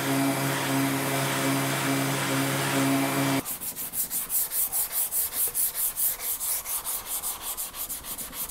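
Sanding along the edge of a wooden coffee table: a steady abrasive rub for a few seconds, then a run of rhythmic back-and-forth strokes, each a loud hissing scrape, close by with no talking.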